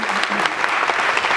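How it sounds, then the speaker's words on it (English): An audience at the BrightonSEO conference applauds an expert's tip, a brief, dense patter of many clapping hands heard on its own. "Big round of applause for Johnny's tip there"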